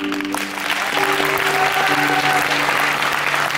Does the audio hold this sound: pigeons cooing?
no